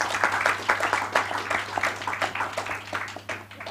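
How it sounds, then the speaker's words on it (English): Audience applause for conference panelists closing an afternoon session on inclusive wealth and SDG financing, a steady wash of many hands clapping at moderate level with a low hum beneath. "I'd like to ask for a round of applause for the panelists"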